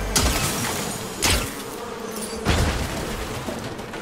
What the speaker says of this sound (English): Don't like the wasps though.